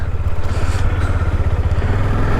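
A motorcycle engine runs close by with a steady, throbbing low rumble and some rattling clatter as the bike sets off, loud and continuous throughout with no voices.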